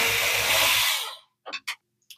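A power screwdriver whirs steadily while backing a screw out of an Epson WorkForce WF-2860 printer, then stops, followed by a few short, sharp clicks and taps from handling the part, close and clear with no talking.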